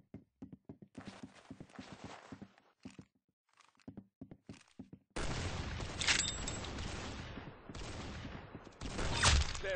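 Rapid gunfire in the shooting game Arsenal: first a run of sparse, clipped shot bursts with gaps, then loud, dense continuous firing with sharp high cracks near the end.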